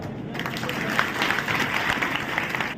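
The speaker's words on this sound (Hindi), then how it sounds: "आप लोगों से आग्रह करेंगे कि जोरदार ताली हो" Loud, dense applause from a crowd at a political rally, steady clapping that swells in and holds for a few seconds before cutting off.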